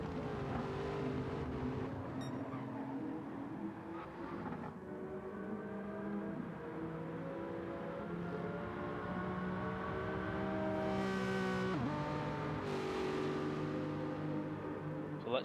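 Touring race cars in a racing video game drone and whine as their engines rise and fall in pitch. Several engines layer close together, with shifts and revving through the run. No one talks.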